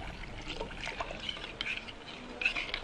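Water is poured into a cinnamon and orange mixture while making a sauce for an apple puff pastry: a faint, soft trickling splash runs for a few seconds at low level.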